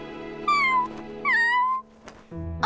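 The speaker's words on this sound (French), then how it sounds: "Oh, un petit chat?" A small cat meows twice in drawn-out, rising-then-falling cries, followed by a shorter third meow near the end, close and clear, in the cartoon Robocar POLI.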